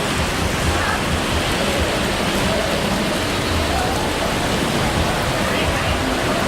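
Heavy rainy-season downpour in Bangkok, a dense steady hiss of rain falling on surfaces that holds at a constant, fairly loud level throughout.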